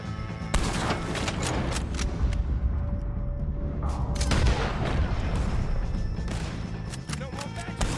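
Gunfire in Red Dead Redemption 2, a shootout with O'Driscolls: continuous loud volleys and booming shots overlap with no gaps, with shouted voices occasionally mixed in.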